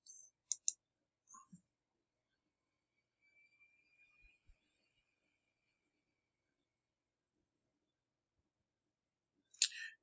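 A computer mouse clicks a few times, faint and close, with a short cluster at the start and another at the end of an otherwise near-silent stretch.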